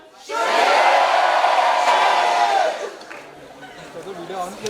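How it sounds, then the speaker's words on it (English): A college crowd screams in unison on a count of three, a loud sustained roar of many voices lasting a couple of seconds before dropping to scattered chatter. "at the count of 3, I want you to scream Kshitij"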